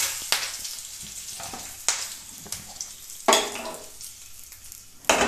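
Cumin seeds and curry leaves sizzle in hot coconut oil, with sharp bursts of spitting and crackling at a few moments that fade into a quieter, close-up frying hiss between them.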